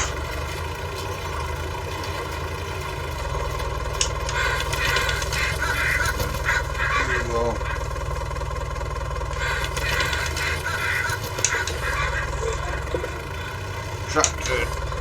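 A farm tractor idles on a dairy and sheep farm with a steady low mechanical chug, continuous and close, while someone talks over it.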